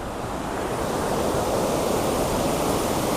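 Water rushes fast below the Thenmalai dam in a loud, dense, unbroken roar that stays constant throughout, near and overwhelming with no talking.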